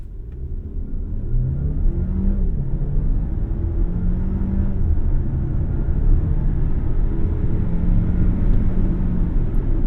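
A 2024 Alfa Romeo Tonale Ti plug-in hybrid launches from a stop at full throttle, a steady loud engine drone with rising harmonic tones as it climbs through the gears, heard from inside without talk.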